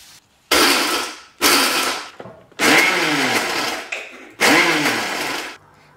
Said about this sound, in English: I transfer it into a mixie jar along with coriander leaves to grind into a coarse chutney like this